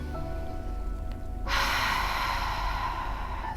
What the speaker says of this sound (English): so you're going to exhale strongly.